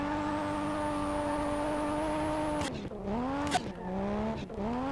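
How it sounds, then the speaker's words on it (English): A car in the racing game SLRR spins its wheels, a steady high engine whine with a squealing tire tone that breaks into rising and falling revs and skids in the last seconds, with no talk. "this car does have a lot of wheel spin."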